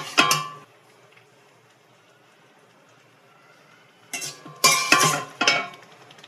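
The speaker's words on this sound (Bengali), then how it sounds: "ধীরে ধীরে ভালো করে মিক্স করে নেব, আস্তে আস্তে এভাবে নাড়াচাড়া করে।" Masala being stirred into rice masala khichdi in a pot, with short bursts of spoon scraping and clinking against the metal pot, one near the start and several close together near the end, separated by near silence.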